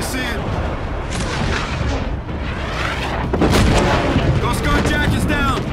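Heavy gunfire and booming explosions from the video game Call of Duty: Infinite Warfare form a loud, dense, continuous barrage, with radio-style voices talking over the combat.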